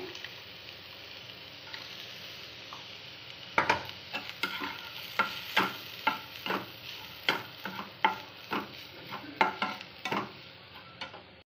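Spoon stirring chopped onion, green chili and peanuts in a frying pan, a soft sizzle underneath and a run of close scraping, clinking strokes against the pan that grow busier partway through.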